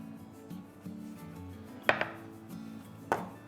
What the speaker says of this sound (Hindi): लाइटली बैंग द मोल्ड ताकि एक्सेस इसमें से निकल जाए और ये इवनली कोट हो जाए।